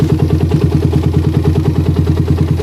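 A motorcycle engine fitted with a PE/PWK/PWL carburetor runs close and loud, putting out a rapid, even pulsing beat with light throttle blips.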